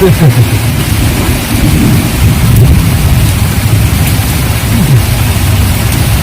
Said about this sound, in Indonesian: soalnya hujan deras, banyak petir